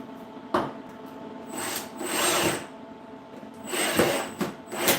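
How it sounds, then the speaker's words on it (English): A power drill drives screws into wood, making several whirring bursts of one to two seconds with brief knocks and rubbing between them, close and moderately loud. "So when I'm screwing in there, I'm in between the gap."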